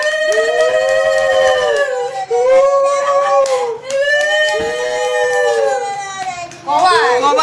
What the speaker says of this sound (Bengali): উলু দাও দিদিমা।